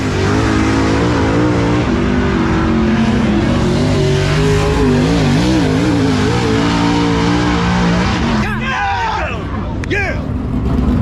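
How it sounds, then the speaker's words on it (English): A race car howls around Talladega on a qualifying lap, its engine note loud and steady with wavering pitch, then shifting near the end, while an announcer talks over it. "See what Joyner can do on lap number 2"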